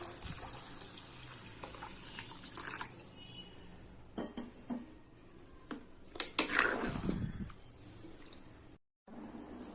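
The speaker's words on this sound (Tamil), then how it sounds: "இப்போது தண்ணி ஊற்றிக்கலாம்" Kitchen clatter of pots and utensils while cooking vegetable rice, with about three tumblers of water splashing and pouring into a pot partway through, moderately close and no voices.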